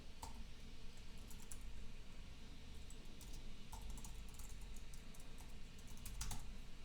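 Steady typing of code on a computer keyboard, with scattered individual key clicks and brief flurries of keystrokes over several seconds, moderately close, alone without speech.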